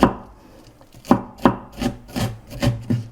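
A knife chops chili peppers, seeds left in, into coarse pieces on a board for a barley ssamjang dipping paste; about eight crisp, close knocks fall at a quick, slightly uneven pace with no talking.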